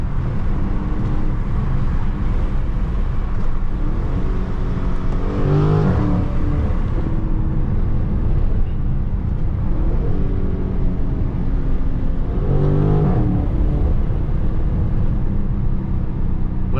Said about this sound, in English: my engine sounds so much louder, even though it's not loud at all